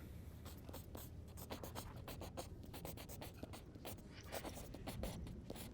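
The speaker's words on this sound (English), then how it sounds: "And she starts writing." Pen or pencil scratching across paper in a steady run of short strokes, close and fairly quiet, with no talking.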